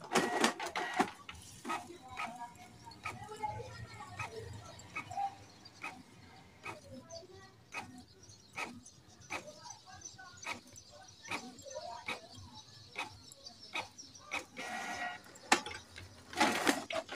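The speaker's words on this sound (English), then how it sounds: "we need to print out the information of the printer" A Canon PIXMA G3411 printer prints its information page with a run of regular mechanical clicks and ticks and a whirring feed, close by, while a person talks over it.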